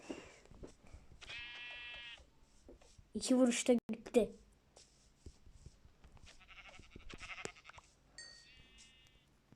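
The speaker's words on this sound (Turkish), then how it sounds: "Burada iki tane koyun varmış." Minecraft sheep bleats ring out a few times, short and bright, between bursts of someone talking and clicking sounds.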